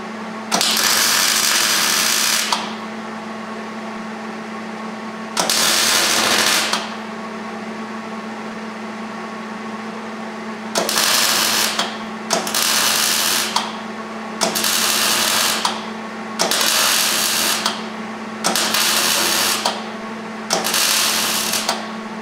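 Welding on a gooseneck trailer's inner fender, with loud bursts of buzzing arc noise, a long pass followed by a run of short regular bursts separated by quieter pauses.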